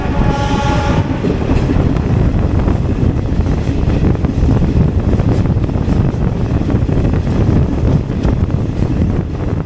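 A passenger train on the Siliguri Junction to Lataguri line in the Dooars rattles loudly along the rails in a steady, close roar, with a brief horn-like tone at the very start and wind buffeting throughout.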